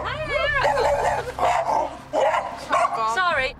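A new female puppy barks, yips and whimpers in a home, with a string of high, wavering whines and short barks in quick bursts, close and fairly loud.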